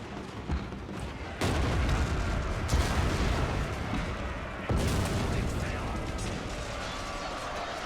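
Artillery booms and gunfire from a Total War: Shogun 2 online battle, sharp loud blasts near 1.4 and 4.7 seconds over a dense, continuous battlefield din.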